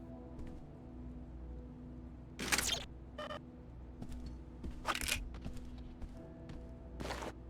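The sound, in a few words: crunching sounds in the video game Deus Ex: Invisible War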